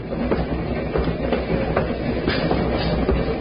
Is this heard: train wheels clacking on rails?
yes